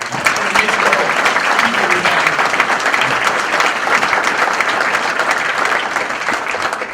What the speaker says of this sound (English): how about a round of applause for all the women that have been Irish Women of the Year?